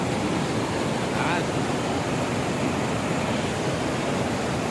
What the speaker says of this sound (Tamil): அருவி காட்டுறோம் பாருங்க, பாருங்க.